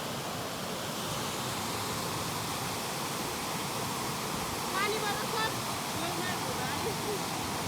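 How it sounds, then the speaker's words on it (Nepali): Rainwater rushes through a village in a heavy, unbroken roar of flowing water, loud and close, with a brief voice faintly heard over it partway through. "यस्तो खतरा पानी परेर यस्तो भइरहेछ"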